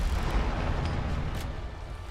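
A deep, rumbling video game explosion, in Sniper Elite V2, roars loudly and fills the short clip with a sustained low boom that slowly fades.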